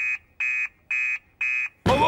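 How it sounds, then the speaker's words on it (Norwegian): A cartoon fire alarm sounds four loud, even electronic beeps in a steady rhythm, each about a fifth of a second long, followed by a sudden burst of broadband noise. "Alarmen går!"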